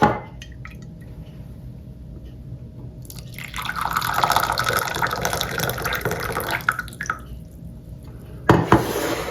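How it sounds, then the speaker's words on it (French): Boiling water pours into a teapot of mint tea, a rising watery splash and trickle that keeps going for several seconds, then stops with a couple of clinks of the pot. "Là je vais rajouter de l'eau bouillante."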